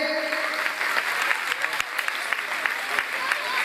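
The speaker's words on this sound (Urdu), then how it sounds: "آپ سب ان تمام اساتذہ کے لیے بھرپور تالیاں بجائیں" Audience at a Bab E Arqam School System ceremony claps for the teachers, producing dense, sustained applause throughout with a faint murmur of voices underneath.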